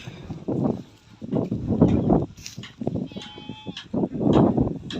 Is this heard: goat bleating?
yes